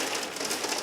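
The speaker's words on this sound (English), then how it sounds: "Oh yeah, it's hailing again. Can you hear it?" Hail falls outside in a dense, steady patter of hard ice pellets, a broad continuous hiss with no pauses over the short stretch.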